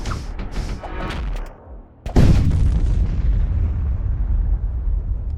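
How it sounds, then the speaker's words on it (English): In the sci-fi strategy game Void War, a missile launches with a rushing whoosh, then detonates in a sudden loud boom. A sustained rumbling roar follows and persists, and no one speaks. "launch the missile"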